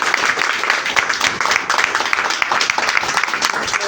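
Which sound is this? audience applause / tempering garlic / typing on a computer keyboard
audience applause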